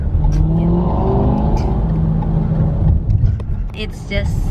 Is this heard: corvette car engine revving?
yes